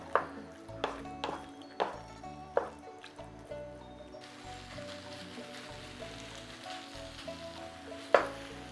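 Chicken pieces searing in a pan for Thai yellow curry, a low steady sizzle with occasional sharp clacks and scrapes of a utensil stirring the meat, fairly quiet and without voices.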